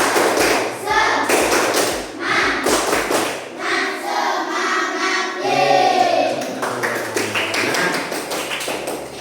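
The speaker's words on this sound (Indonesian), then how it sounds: "ayo kita tepuk semangat dulu biar bisa tepuk semangat" A classroom of students does a rhythmic 'tepuk semangat' spirit chant, with a quick run of clapped or slapped beats early on, then the group chanting in unison over scattered claps.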